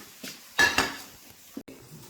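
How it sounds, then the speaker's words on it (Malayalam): A spoon scrapes and clinks in a pan as curry leaves, ginger and garlic are stirred for mango pickle, a few close strokes with a brief louder scrape in the middle. "ഇത് ഗോൾഡൻ കളർ ആകുന്നോടം വരെ, അതുപോലെ കറിവേപ്പില ക്രിസ്പി ആകുന്നോടം വരെ നമ്മൾ ജസ്റ്റ് ഒന്ന് ഇളക്കി കൊടുക്കാം"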